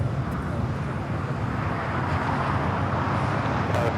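Airplane rolling for takeoff on runway 25 right at Los Angeles International Airport: a steady, loud broadband engine roar that stays constant throughout, with faint background noise.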